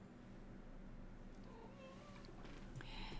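A Balinese, long-haired Siamese, cat named Elwood meows indoors: soft, faint wavering cries rising and falling over a couple of seconds, half-buried in a steady low background hum, with no talk.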